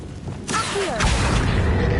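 An Accio summoning spell in Hogwarts Legacy: a bright whooshing shimmer with rising and falling whistling tones, then a heavier low thud and rumble, close and moderately loud.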